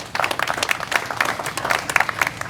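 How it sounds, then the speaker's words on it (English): A crowd applauds steadily for a few seconds at a ceremony marking the 10th anniversary of a tightrope walk over Niagara Falls, the clapping dense and moderately loud with faint voices mixed in. "let's give him a round of applause"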